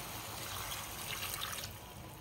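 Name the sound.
water poured into cooking pot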